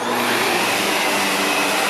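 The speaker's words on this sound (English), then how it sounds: "I'm going to take my time and vacuum it slow." A vacuum cleaner running slowly over a client's area rug gives a loud, steady, high-pitched whine that holds constant for the whole stretch, with no talking.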